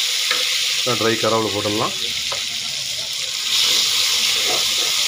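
Tomatoes sautéing in a pan for a Tamil-style kuppaimeni chicken soup, giving a steady moderate sizzle with occasional stirring, while someone talks briefly over it.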